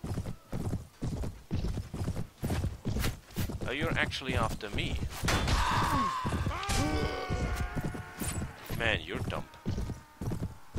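Horse hooves clip-clopping in Mount & Blade (Prophesy of Pendor mod), a quick, regular galloping beat near and loud, with a whinny and other battle sounds mixed in while someone talks over it.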